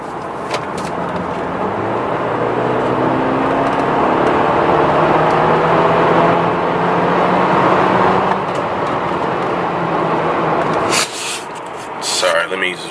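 A BMW F10 sedan drives along the road, its steady engine and tire roar holding for about eleven seconds before dropping off into a brief clatter of handling noise near the end.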